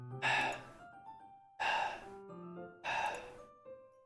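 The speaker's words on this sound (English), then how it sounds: "A sharp inhale, like someone is sucking the air through their teeth" A sharp hissing inhale drawn through the teeth in the Doki Doki Literature Club video game, heard three times in a slow rhythm, close and fairly loud, with soft musical tones between the breaths.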